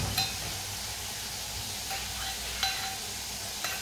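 Food fries in a pan while being stirred, a soft continuous sizzle broken by a few light scraping clinks of a spoon against the pan.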